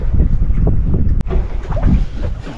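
Sailboat under way at about 3 knots on open sea toward Naxos, with steady wind rush buffeting the microphone and soft water wash against the hull, plus one brief sharp knock midway.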